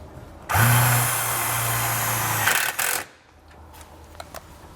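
A power tool with a 1/4 inch socket drives a self-tapping screw into a panel while installing trailer wiring on a 2017 Nissan, giving one loud steady whir of about two seconds that stops abruptly, followed by faint clicks and quiet handling.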